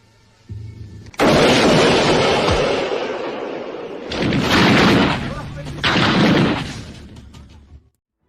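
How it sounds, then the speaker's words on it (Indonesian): A sniper rifle fires in the 1993 film Sniper: a loud, booming shot with a long rumbling tail, followed by two more heavy, echoing bursts before everything cuts to silence. "akhirnya tiba di saat Thomas bisa melepaskan sebuah tembakan"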